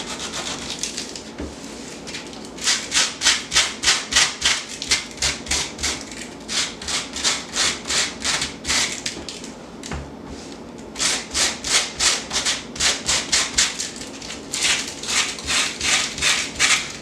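Dollar-store sandpaper rubs back and forth on a Halloween DIY decor piece in quick, rhythmic scratchy strokes, grouped into several bursts separated by short pauses, close and clear with no talking.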